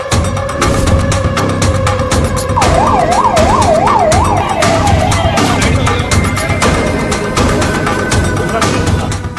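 A wailing ambulance siren rises and falls in quick cycles over loud road traffic noise at a police shooting scene in Chittorgarh, Rajasthan, then fades into continued engine rumble.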